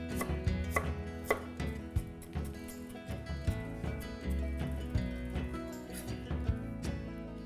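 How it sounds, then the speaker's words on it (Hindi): Fresh ginger is chopped with a knife on a cutting board while cooking Indo-Chinese chilli potato, giving a quick series of crisp, close taps in uneven bursts that run steadily throughout. "अदरक रह गई थी, थोड़ी चॉप कर लेते हैं"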